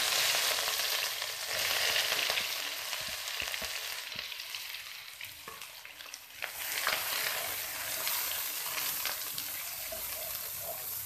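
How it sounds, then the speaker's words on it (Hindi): Onions frying in the oil left from frying eggplant, a steady loud sizzle and crackle with occasional stirring, and no talking. "जिस तेल में हमने बैंगन फ्राई किए हैं उसी में अब हम ये प्याज डालेंगे।"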